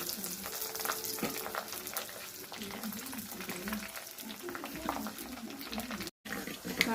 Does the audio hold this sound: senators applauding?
no